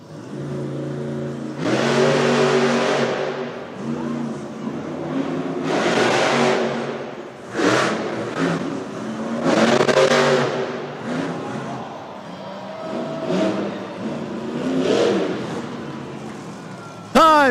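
Gravedigger, a monster truck, roars through a timed JCB racing run at a Monster Jam event in Edmonton, its engine surging and revving in repeated loud waves with brief drops between, heard over arena ambience and announcer commentary.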